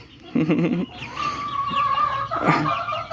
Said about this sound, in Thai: ตัวนี้ตัวเมียหัวจุกครับสวยไหมครับผม